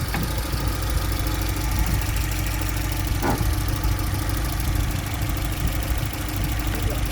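A car engine idles steadily with a low, even rumble and faint mechanical ticking, close by and without voices, during a MAF sensor test.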